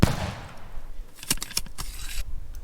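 Gunfire from a musket in the Minecraft Hunter's Dream mod: a soft mechanical click, then a series of sharp, bright cracks and rattles in close succession, loud and with no voices over them.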